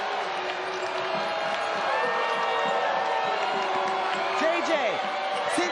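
Crowd noise fills a North Carolina–West Virginia basketball arena, with steady cheering and clapping and whistles and whoops rising near the end.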